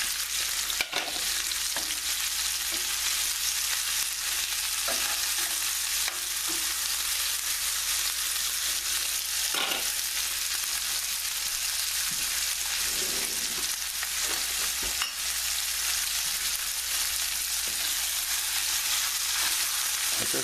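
Veal cutlets frying in butter in a pan, a loud steady sizzle that runs unbroken, with occasional scrapes and clicks as the meat is moved around.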